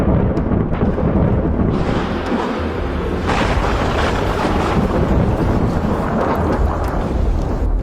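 Heavy thunder rolls through a steady wash of rain and wind near a riverside camp, loud and continuous with deep booming swells and no talking.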